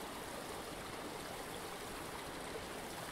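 A remote Scottish river stream runs over rounded boulders, giving a soft, continuous rushing and burbling of moving water that stays even and fairly quiet throughout, with no voices.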